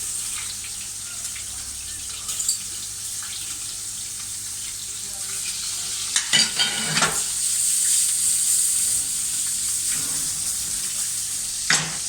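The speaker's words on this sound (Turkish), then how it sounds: "tereyağında çevrilmesini isteyenler de oluyor" Fish frying in butter in a pan makes a continuous soft sizzle with occasional louder stirring or turning noises, close by and without speech.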